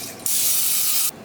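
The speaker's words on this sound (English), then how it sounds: "spray your muffin tins" Cooking spray hisses onto muffin tins in a single steady burst just under a second long, close and loud, with a sharp start and stop.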